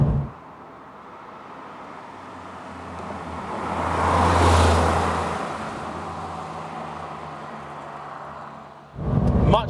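A Porsche 993 911 Turbo drives along, its engine and road noise swelling to a broad peak midway as speed builds, then easing back to a steady cruise, with no voices over it.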